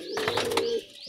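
A Giribaz pigeon gives a single short, soft coo, close and fairly clear, with no talk.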